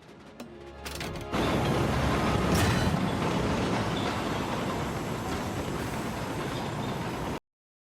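A train hauling carriages in an animated Teenage Mutant Ninja Turtles show rumbles in after a brief quieter lead-in, then keeps a loud, steady rolling clatter before cutting off abruptly.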